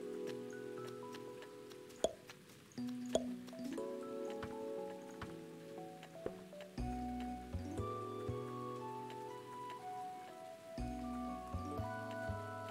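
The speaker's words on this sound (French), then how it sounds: "il y a des endroits où il pleut pas et des endroits où il pleut" Rain falling in the video game Odd Realm, a soft patter of drops heard beneath layered game music with sustained tones and occasional sharp ticks.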